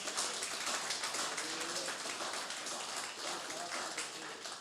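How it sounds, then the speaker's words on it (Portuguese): A church congregation claps together in steady, dense, continuous applause, a broad wash of many hands heard from a distance at moderate level. "Vamos dar uma salva de palmas para Jesus"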